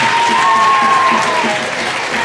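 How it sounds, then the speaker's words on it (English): A school assembly audience applauds in a dense, continuous wash of clapping that stays loud and steady from start to finish, with a faint tone running over it. "Give these guys a round of applause."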